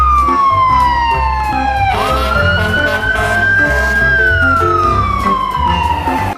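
A toy fire engine ladder truck wails with a loud, continuous electronic siren, its pitch sweeping down, jumping up and gliding slowly back down, filling the whole stretch without pause.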